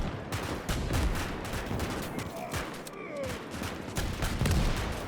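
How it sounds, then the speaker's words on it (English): Battle in the Winds of Iron 1920+ mod, Saxonian mechs attacking Rusviet trenches: dense rattling gunfire and repeated artillery booms rolling continuously, loud and busy, with a voice talking faintly underneath. "Those artillery shots are just awesome to catch, like the ragdolls and everything."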